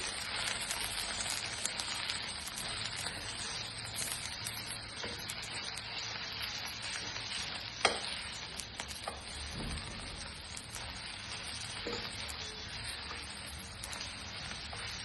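Red chili masala fries in a pan, a faint, even, rain-like crackling hiss running throughout with a few soft knocks and no voices.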